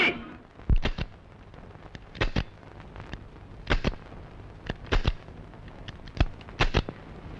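Gunfire in a Tamil action movie scene, likened to a Diwali toy gun: a series of sharp, loud cracking shots in irregular clusters, some doubled or tripled, over quiet background.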